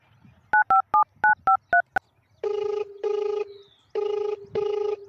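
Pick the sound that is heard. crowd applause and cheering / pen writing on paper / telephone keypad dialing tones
telephone keypad dialing tones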